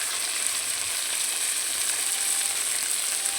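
Spice paste with turmeric sizzles steadily while frying in a pan for a fish and ridge gourd curry, a close, constant hiss and crackle with no talking.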